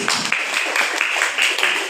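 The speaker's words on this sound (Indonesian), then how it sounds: "Tepuk tangan." A classroom of students clapping their hands together in a lesson, a brisk, fairly even patter of many hands with a few sharper accents, close and steady for a couple of seconds.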